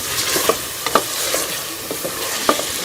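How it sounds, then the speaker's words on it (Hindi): Chicken with spices including garam masala fries in a pan for karahi, a steady close sizzle with a few sharp scrapes and taps from stirring. "और इसको डाल के चिकन को जो है वो अच्छी तरह से भून लेंगे।"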